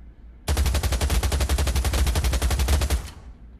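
Sustained automatic gunfire from a weapon in the VR shooter game Pavlov, a rapid unbroken stream of loud, evenly spaced shots lasting about two and a half seconds before stopping and fading.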